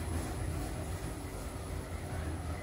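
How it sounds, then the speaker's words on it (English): Aeroplane engine noise drones steadily near a retail park in Haverfordwest, a broad constant rumble holding at even loudness with no talk over it. "I want to test like a better aeroplane noise."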